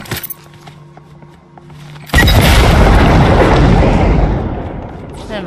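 A loud, sudden boom bursts in Fortnite and rolls into a long, decaying rumble, coming after a stretch of quieter game sounds.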